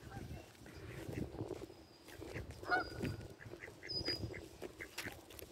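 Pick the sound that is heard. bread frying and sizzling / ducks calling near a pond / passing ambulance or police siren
ducks calling near a pond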